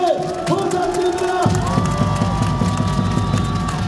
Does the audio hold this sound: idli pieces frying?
no